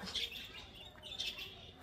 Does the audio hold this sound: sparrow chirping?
yes